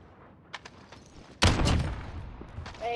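Gunfire in a Modern Warfare search and destroy match, a faint crack early on followed by a sharp, loud sniper blast that rings out and decays, close and clear with no speech.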